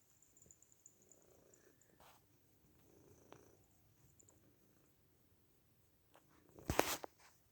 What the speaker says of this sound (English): I can hear the purring from here.